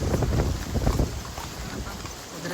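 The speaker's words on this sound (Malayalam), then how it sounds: "ഈ കാറ്റും മഴയൊക്കെ ഉണ്ടാകുമ്പോൾ നമുക്ക് പേടിയാവും." Wind and rain in the hills at Matheran, a steady loud rushing wash with gusty buffeting against the microphone, easing slightly toward the end.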